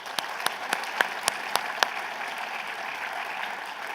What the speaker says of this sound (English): Everybody give them a hand of applause.